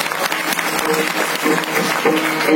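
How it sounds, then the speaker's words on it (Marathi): Audience applause at a comic Marathi kirtan, a steady burst of hand-clapping from a crowd lasting the whole moment, with a few faint tonal notes underneath. "जोरदार टाळी वाजली"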